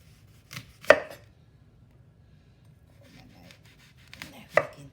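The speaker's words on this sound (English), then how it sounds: "I'm gonna take the seed from the apple." A knife cutting into a green apple on a board to take out the seeds, with two sharp chopping knocks near the start and another near the end and quiet handling between. No one speaks.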